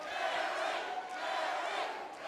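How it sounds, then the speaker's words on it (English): A dense arena crowd at a heavyweight MMA fight between Derrick Lewis and Ricky Shivers roars and cheers continuously, a loud sustained wall of voices with no break. "Listen to this crowd."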